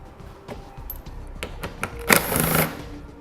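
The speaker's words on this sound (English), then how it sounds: "We're using a 10mm socket to remove these bolts." A 10mm socket loosening and backing out bolts beneath a 2018 Toyota Tacoma, with scattered close metallic clicks and scrapes and a louder burst of clattering near the end.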